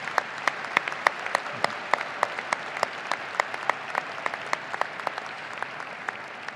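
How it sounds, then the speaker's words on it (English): A commencement crowd at a university arena claps for graduating alumni, the sparse, distinct handclaps sounding fairly distant and steady throughout without voices on top. "let's give them a huge round of applause for their efforts"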